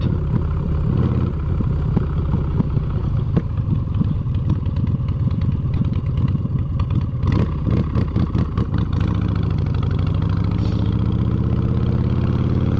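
A motorcycle engine runs steadily during a ride, a loud, close rumble with clattering, uneven throttle pulses and no talking over it.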